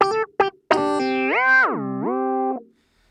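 A clavinet software plugin plays a bright, buzzy solo tone with a few short stabs, then one sustained note that bends up, drops down and settles before cutting off. There is no talking.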